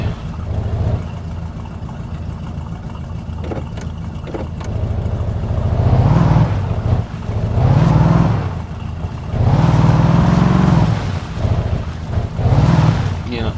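Engine of a car in the game My Summer Car rumbling and revving in repeated low swells, loud and close, with a brief lull before the surges build again.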